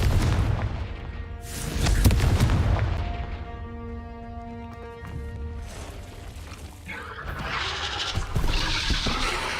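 Confringo blasting spell in a Harry Potter video game, deep booming blasts with rumbling decay, a sustained tonal hum in between, then a crackling burst of noise near the end.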